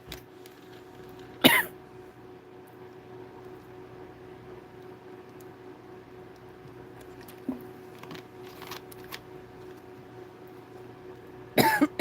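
Several short coughs from someone sitting indoors at a microphone, a sharp one early, a small one midway and a tight cluster at the end, over a quiet steady hum.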